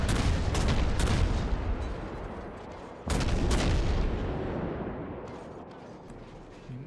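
Destroyer Mahan's guns firing in the naval video game World of Warships, two heavy booming salvos about three seconds apart, each a loud, sharp blast trailing off into a long rumbling decay.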